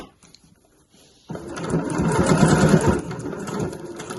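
A sewing machine stitches along the base of a weekender bag, starting after a quiet moment and running as a steady, fast mechanical whir with a rhythmic needle chatter, close and clear.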